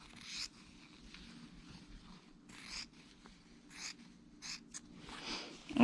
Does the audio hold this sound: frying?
no